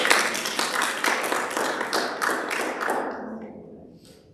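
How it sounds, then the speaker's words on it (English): Attendees at an Alabama women's commission meeting clap together in a lively round of applause that holds steady for about three seconds, then tapers off and fades out. "the entire board needs to give another round of applause"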